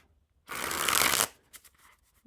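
A deck of Magical Women playing cards by Casey's Cards gets a riffle shuffle: one close, loud, continuous burst of flapping cards lasting under a second, followed by a few soft taps as the deck settles.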